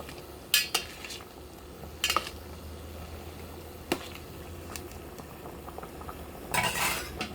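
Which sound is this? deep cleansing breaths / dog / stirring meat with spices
stirring meat with spices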